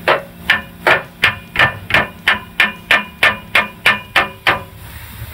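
A hammer strikes a Shockit punch on a rusted oxygen sensor socket on a truck, giving about thirteen sharp metallic blows in a steady, quick rhythm, loud and close, with no talking.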